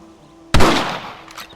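A single loud rifle shot rings out in a Red Dead Redemption cutscene, a sharp crack followed by a booming tail that fades over about a second.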